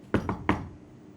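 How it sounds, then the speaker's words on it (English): Three quick knocks on a door, close and sharp, in a fast uneven rhythm, then quiet. "hear a knock on the door."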